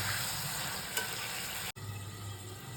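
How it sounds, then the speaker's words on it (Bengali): Fried potato pieces sautéed with spices in a pan for a fish curry sizzle steadily; a short break in the sound comes partway through. "আমি এখানে ভাজা আলুটা দিয়ে দিচ্ছি মশলার সাথে কষানোর জন্য।"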